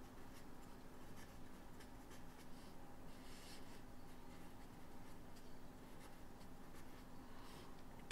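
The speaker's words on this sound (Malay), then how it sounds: "Cikgu tulis dulu ya." A teacher writes out an additional mathematics (Form 4 KSSM) solution, a steady faint scratching of writing running continuously under low background hum, with no talk.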